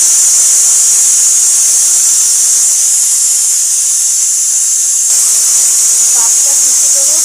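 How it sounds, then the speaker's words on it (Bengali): A pressure cooker cooking mutton vents a loud, steady hiss of steam that runs unbroken throughout, with a brief dip partway through before it surges back. "প্রেশার কুকারে বসিয়ে দিয়েছি"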